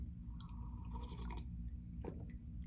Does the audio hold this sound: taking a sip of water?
yes